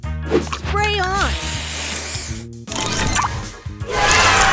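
Spray booster effect in the mobile puzzle game Match Masters, a loud hissing spray burst surging and fading between bright chimes and swooping tones, with an announcer voice calling out over the game sounds.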